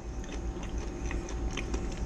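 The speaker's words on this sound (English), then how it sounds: "I don't know if you can hear that crunch, but they're crunchy." Crunchy toaster-oven potato wedges dipped in Heinz ketchup being bitten and chewed up close, a run of crisp crackling crunches over about two seconds with no talking.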